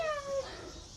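A single cat's meow, a short rising-falling cry near the start, followed by quiet room noise.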